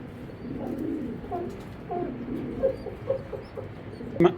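Racing pigeons coo softly and repeatedly at close range, with low, throaty calls that come in short rhythmic phrases over a faint background murmur.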